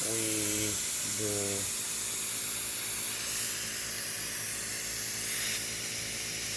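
Air escapes from a tire through its valve stem as a steady, fairly loud hiss that runs without a break, with a brief low tonal sound at the very start.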